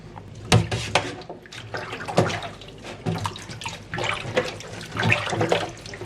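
Tap water runs while fresh produce from a market, including fresh red chilies, is washed again under it; splashing and gurgling come in uneven bursts with brief clattering knocks, close and fairly loud.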